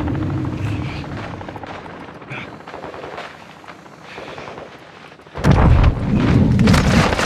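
Helicopter in the video game Call of Duty DMZ, a steady low rotor throb with game combat noise, stepping up to a much louder, nearer roar for the final two seconds; no talk.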